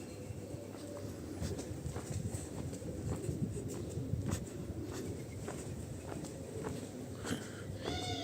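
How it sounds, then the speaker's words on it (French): Pigeons coo softly amid a steady outdoor hum, with light scuffling steps and wing flutters nearby. "Regardez, ils sont partout les pigeons."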